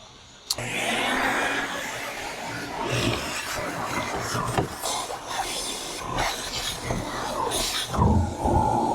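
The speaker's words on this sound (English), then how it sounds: "get the grinder out and start grinding this out, get it flat" Power grinder grinding a boat transom flat on a Key West 1700 boat restoration, a loud continuous abrasive whine that starts abruptly and holds steady with shifting pitch as the tool works the surface.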